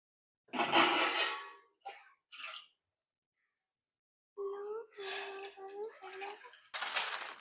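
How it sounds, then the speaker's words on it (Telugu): Water poured into a pot to cook spicy Korean noodles, a few close splashing pours and clinks of the pot, broken by quiet gaps, with a voice speaking between the pours. "ఫస్ట్ వాటర్ పోసుకోవాలి"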